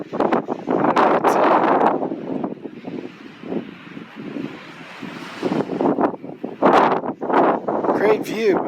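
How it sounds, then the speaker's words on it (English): Strong wind on a Colorado mountain buffets the microphone in loud, rumbling gusts that rise and ease, with a voice briefly audible between bursts. "It's super windy up here."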